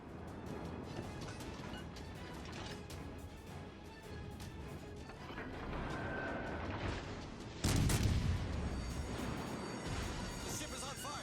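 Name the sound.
cruiser's guns firing at a destroyer in video game World of Warships: Legends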